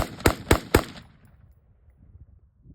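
Three sharp gunshots ring out at a shooting range, fired in quick, evenly spaced succession toward a target. Loud and close, they die away into a fading echo.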